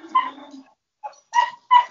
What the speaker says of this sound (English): The dog's barking